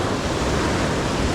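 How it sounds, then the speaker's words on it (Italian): Sea waves surging hard onto a rocky shore during a fishing outing, a dense, steady roar of surf close to the microphone with no talking. "qua le onde arrivano a tutta forza ed è difficile restare in pesca"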